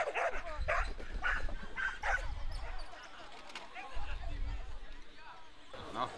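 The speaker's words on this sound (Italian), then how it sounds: "Dog." Dogs bark at an outdoor integrated sports event in Assisi, several sharp yaps and whines rising over a busy background of crowd chatter and people talking nearby.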